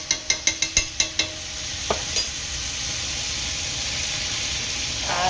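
Aloo dum potatoes stirred in a pan with ghee: a quick run of about seven sharp spoon clacks, then a few more taps over a steady close sizzle, with no talking.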